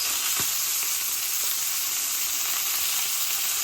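Pork tenderloin fries in a hot pan with a steady, loud, even sizzle that fills the whole stretch, with a few faint stirring or scraping knocks underneath.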